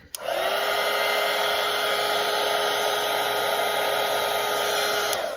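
A hair dryer drying watercolour paint switches on and blows a loud, steady, close whirring roar for several seconds before cutting off.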